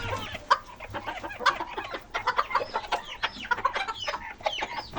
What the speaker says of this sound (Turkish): Büyük ihtimal şu horoz yaptı.